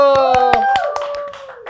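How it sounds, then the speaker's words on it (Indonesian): A few sharp hand claps on a children's podcast, sounding in a quick, slightly uneven rhythm close to the mic while a voice speaks over them. "Yeay, tepuk tangan dulu."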